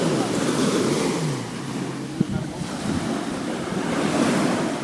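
Waves wash onto Lyubimovka beach near Sevastopol under steady wind that buffets the microphone, producing a continuous broad rush of surf and wind, loud and close, with no voices.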